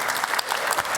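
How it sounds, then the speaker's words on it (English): Audience applause fills a conversation event with Eric Bogosian, a dense steady wash of clapping hands at full loudness with no voices above it. "applause to Birdman."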